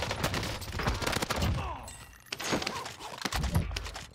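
Rapid bursts of gunfire from the video game Warzone on Rebirth Island, with dense clusters of shots, a brief lull midway, then more firing, while a voice speaks over it.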